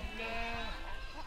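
Goats grazing on weedy foothill brush bleat in a wavering, drawn-out call, loud and close, over a steady outdoor background.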